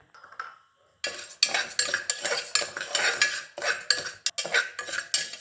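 Rice and moong dal are dry roasted in an oil-free pan, stirred with repeated scraping, rattling strokes in quick rhythm after a brief quiet start, close and fairly loud.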